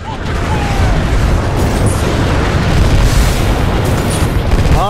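Weapons fire explosions boom in the Titanfall 2 video game, a loud, dense, continuous roar of blasts and rumble with no pauses, and no clear voices over it.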